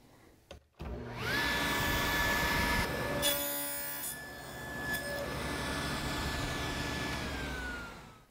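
A power saw cuts wood while building a box joint jig, its steady motor whine and cutting rasp running loud and continuous for several seconds before winding down, with no talking.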